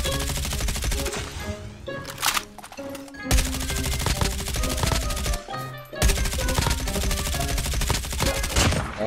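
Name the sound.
gunfire in the video game Call of Duty Mobile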